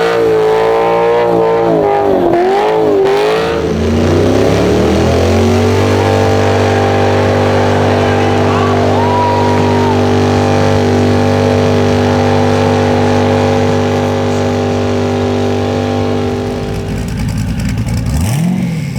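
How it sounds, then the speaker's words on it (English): A Cummins diesel engine swapped into a Ford Mustang revs loud and close at a Cleetus and Cars event in Houston, Texas, climbing through a rising sweep, then holding a steady, droning roar for over ten seconds before a final swell. "That's a Cummins in that Mustang."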